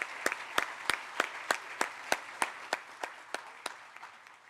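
Slow, evenly spaced claps from one or a few people at a hospital groundbreaking, about a dozen sharp strikes in steady rhythm over a faint crowd wash, fading slightly toward the end.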